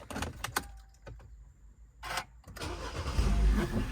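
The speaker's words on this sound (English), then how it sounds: "Now just start the engine up and I can show you how everything works." A 2012 Mini Cooper Countryman being started: several clicks and chimes, a brief cranking burst, then the engine catching and settling into a low steady idle rumble close by.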